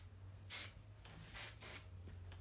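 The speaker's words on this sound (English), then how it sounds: "Spray it underneath." Three short, close hissing bursts of hair texture spray from an aerosol can, separated by brief pauses, with no talking.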